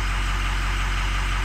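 A car engine with suspected bad cylinder heads idling, a steady low rumbling drone with constant vibration, close and unbroken for the whole stretch.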